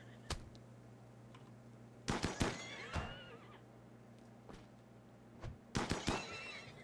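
A wild horse in the game RimWorld whinnies in two loud, sharp bursts of neighing, the first cluster around the middle and a second near the end, over a steady low background hum with a few brief clicks.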